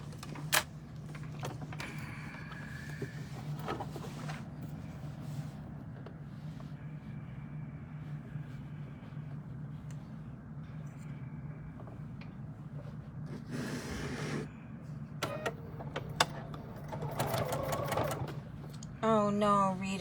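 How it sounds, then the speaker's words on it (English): A sewing machine stitches a seam on a reversible topper in bursts of steady mechanical whirring, mostly quiet and low, with someone talking over it throughout. "now we got to sew this seam"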